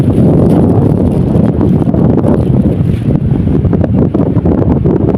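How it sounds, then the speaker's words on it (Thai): Strong sea wind at Wonnapha beach in Chonburi, Thailand, buffeting the microphone in a loud, continuous rumbling gust with rustling bursts, no voices heard. "อันนี้เสียงลมธรรมชาติเด้อพี่น้องเด้อ"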